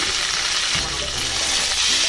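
Garlic cloves, cumin, mustard seeds, a dried red chilli and curry leaves fry in about three tablespoons of hot oil in a pan, giving a loud, steady crackling sizzle with no talking.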